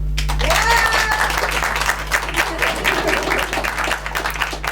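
An audience at an improvisational theatre festival in Paris claps and cheers loudly and continuously, a sustained wash of applause with a steady low hum beneath it.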